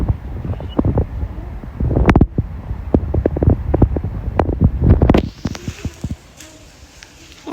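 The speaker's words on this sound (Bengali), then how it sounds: "বাতাসও সকালবেলায় অনেক বাতাস।" Strong morning wind in a foggy village, buffeting the microphone in loud, gusty rumbles and thumps that ease off toward the end into a thinner hiss.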